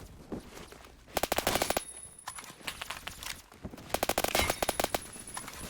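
Rapid automatic rifle fire in the shooter game Phantom Forces, a quick-firing weapon of about 750 rounds per minute, cracks out in two dense bursts of many shots each, separated by scattered quieter shots and movement.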